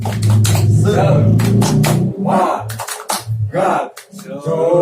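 A group of women claps the Indonesian 'tepuk semangat' spirit clap, a patterned burst of sharp rhythmic claps with pauses and vocal chants woven through it, close and loud.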